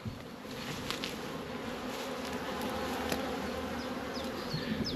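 A dense, steady drone of many honeybees buzzing close around hives, continuous and loud with no pauses, a few individual insects whining past.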